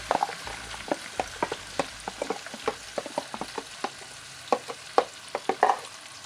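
Potatoes crackle and sizzle in hot oil in a pan, with sharp irregular pops and spits throughout and no voices.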